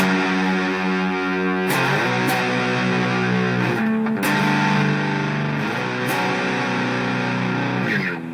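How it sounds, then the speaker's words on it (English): A heavily distorted electric guitar rings out sustained chords, shifting a few times with brief pick scrapes between, loud and dense with no voices. "when the distortion kicks in, you play this chord here"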